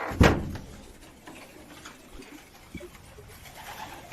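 Racing pigeons in a loft after a 40 km training flight, with one loud close coo-like burst at the start followed by faint scattered soft calls, light knocks and low room noise.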